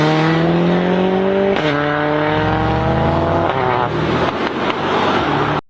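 A Mercedes-AMG A 45 S, a 421 bhp all-wheel-drive hatchback with an eight-speed dual-clutch automatic, revs loudly and close by. The engine pitch climbs and shifts through several gear changes before cutting off abruptly at the end.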